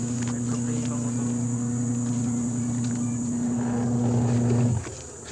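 A washing machine motor fitted with a new capacitor spins weakly, giving a steady low hum with a rough drone that runs evenly and then cuts out near the end.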